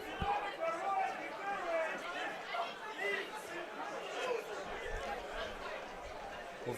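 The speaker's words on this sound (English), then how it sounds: "Various pockets of the Hartpury crowd incensed by the tackle." A rugby crowd at a Hartpury vs Cardiff Met university semi-final murmurs and calls out in displeasure after a tackle, a steady spread-out chatter from the stands, moderately distant.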